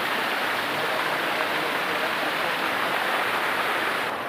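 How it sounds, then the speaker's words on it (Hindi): Ghinauchi waterfall pours steadily beside a small temple, a dense, even roar of falling water filling the scene without a break, fairly close and loud. "उसके बगल में ये पानी गिरता है, इसको घनौसी का फॉल इसीलिए बोलते हैं"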